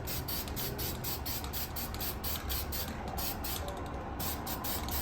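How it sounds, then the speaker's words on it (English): A can of Quick Color spray enamel hisses steadily in one long, continuous burst, close and fairly even, while black primer is sprayed onto a model figure; no one speaks. "I'm going to use this Quick Color spray enamel."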